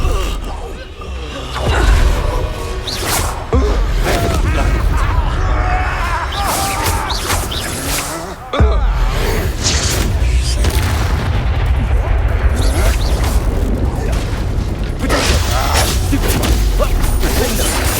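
Spell blasts and explosions in the video game Hogwarts Legacy, with repeated heavy booms, crashes and impact bursts during a fast duel, mixed with mechanical clatter and a voice calling out spell names throughout.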